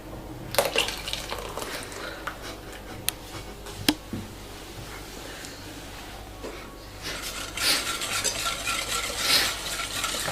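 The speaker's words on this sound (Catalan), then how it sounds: "Remenem fins que la mescla s'homogenitze." Lime tart filling of lime juice, gelatin and melted butter being stirred in a bowl in a kitchen, with steady scraping and a few sharp clinks of a utensil against the side, fairly close, with no talking.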